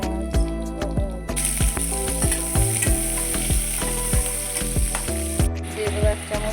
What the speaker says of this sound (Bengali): একই তেলে দিয়ে দেবো সর্ষে ফোড়ন, 4টে শুকনো লঙ্কা, 4টে তেজপাতা, চার পাঁচটা দারচিনি, এলাচ, লবঙ্গ,